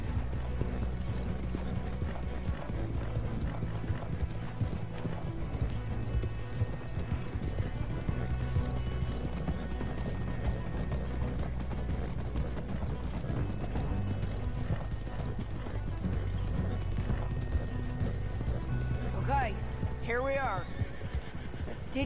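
Horses in Red Dead Redemption 2 gallop with steady clip-clop hooves, and several neighs and whinnies rise near the end, under frequent talking voices.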